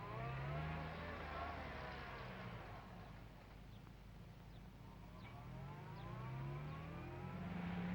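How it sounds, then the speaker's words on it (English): A 1961 Jaguar engine at the factory idles and swells in a low, throaty hum with rising and falling pitch, set under orchestral music; the engine sits fairly quiet and partly masked. "The sleek, purring motor car is now ready to see the light of day for the first time."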